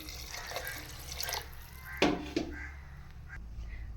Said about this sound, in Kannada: ಅಳತೆಗೆ ಎಷ್ಟು ಬೇಕಷ್ಟು ನೀರು ಹಾಕ್ಕೊಳ್ಳಿ.